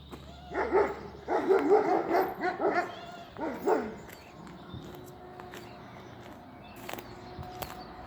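Akbaş dogs and puppies bark and yip in rapid bursts close by, then quieter whimpers and scattered sounds follow, with no one talking over them.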